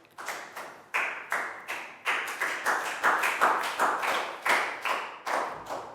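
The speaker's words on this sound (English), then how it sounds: "Big round of applause for Pak Bung." A class of young schoolchildren clapping for a classmate, a lively burst of quick, fairly even handclaps held for several seconds in a room, with no voices over it.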